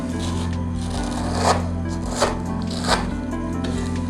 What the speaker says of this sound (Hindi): इसके अंदर इसको अच्छी तरह तोड़ लें और इसको अब हम इसमें फ्राई कर लेंगे।